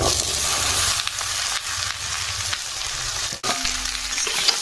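Chopped vegetables hit hot mustard oil with onion and chilli, giving a loud, continuous close sizzle with occasional stirring scrapes and a brief dip near the end.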